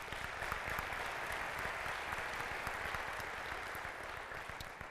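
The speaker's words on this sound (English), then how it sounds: "So if you guys will help me in giving them a round of applause." An audience at a United Way community report event gives sustained applause, a steady, fairly faint wash of many hands clapping that tapers slightly toward the end.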